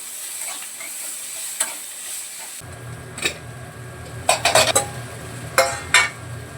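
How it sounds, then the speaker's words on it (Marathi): Tomato sautés in a pan for a kidney bean (rajma) gravy, with a steady hiss that begins partway through and a few sharp spatula clinks and scrapes against the metal pan nearby. No one speaks. "कांदा काढून घेते आणि टमाटा परतवते यामध्ये."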